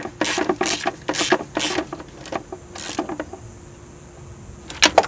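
Ratchet tightening the battery hold-down bolt on a 2013 Hyundai Sonata GLS: several quick bursts of close, crisp clicking, a pause, then a last brief burst.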